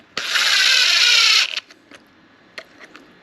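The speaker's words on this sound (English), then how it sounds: "I'm doing this with an impact" A cordless impact driver snugs the belt screws on a DeWalt 20V cordless orbital sander. It gives one loud, close whirring burst of just over a second, followed by a few faint clicks and taps.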